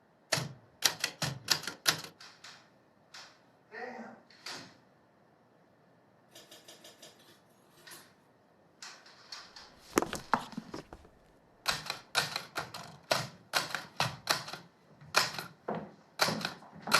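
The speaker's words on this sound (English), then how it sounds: "do you have a typewriter?" Old manual typewriter keys clacking in quick irregular bursts with pauses, close and crisp, a brief soft voice-like sound in between, in a period drama setting.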